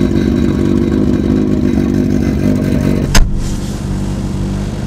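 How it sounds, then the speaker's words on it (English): Car engine revving hard in first gear, loud and sustained with a sharp clunk near the end before the roar continues slightly lower. "we're gonna do a burnout or just drive it really hard in first gear"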